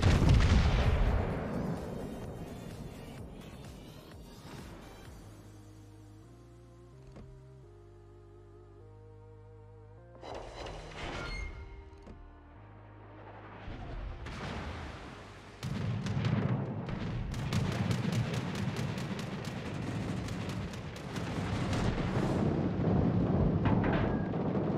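Heavy battleship main guns from the German Tier VIII Bismarck fire in World of Warships, with deep booming salvos and long rumbling tails over a low background score, loud and close.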